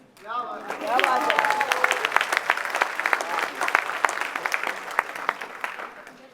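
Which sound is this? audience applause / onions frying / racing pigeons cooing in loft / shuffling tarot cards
audience applause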